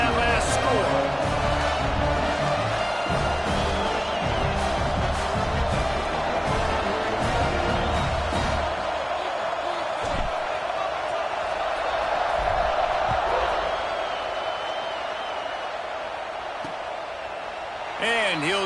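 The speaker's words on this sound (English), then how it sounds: "this crowd is buzzing after that last score" A football stadium crowd roars in a steady loud buzz after a score in an Auburn Tigers video game, with a commentator talking over the noise as it gradually eases.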